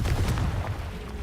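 A Confringo spell blast explodes in Hogwarts Legacy, giving a low rumbling boom that fills a short moment, loud and close, with no speech over it.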